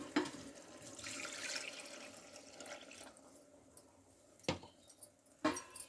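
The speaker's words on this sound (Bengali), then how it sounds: "মাংসটা সেদ্ধ হওয়ার জন্য আমি পানি দিয়ে দিলাম পরিমাণ মতো।" Water is poured into a pot of spice-fried beef for boiling, a soft steady rush for a few seconds that fades, followed by a few sharp knocks and clinks, with no talking.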